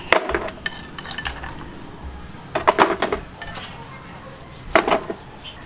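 Large homemade ice cubes clattering into a blender jar, several loud clinks and knocks arriving in clusters with short pauses between, close by.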